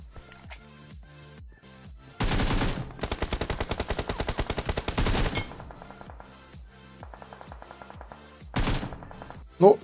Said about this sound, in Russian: стрельба у Фейца